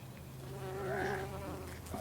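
A bee buzzes close by, its drone rising and falling in pitch as it moves, fairly quiet against a soft background.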